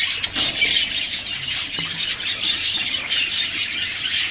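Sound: birds and chicks in an aviary

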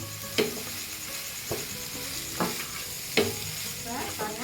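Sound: stirring chicken fried rice with masala in a pan

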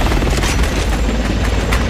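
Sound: helicopter pulling back in Resident Evil 6 video game

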